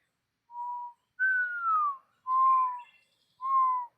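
A person whistles an imitation of a mourning dove call, four clear, tonal whistled notes in sequence, the second gliding downward, with silence between them and no other sounds.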